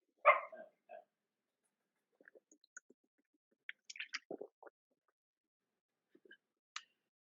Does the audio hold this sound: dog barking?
yes